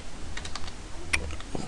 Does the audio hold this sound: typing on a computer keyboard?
yes